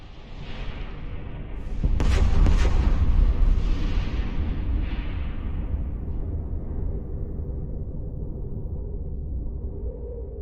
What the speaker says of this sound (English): Explosions in EVE Online are extremely satisfying.